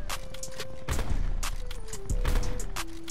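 Sniper rifle shots in the video game Call of Duty Black Ops 4 crack out as a few sharp, evenly spaced reports over a steady tone, loud and close.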